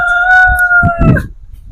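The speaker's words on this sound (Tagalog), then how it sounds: "tiktilaok daw sabi ng manok." A rooster crows loudly and close on a windy day, one long sustained call with a rising start and a falling end. Low rumbling wind noise runs underneath.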